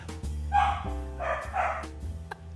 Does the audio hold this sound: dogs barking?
yes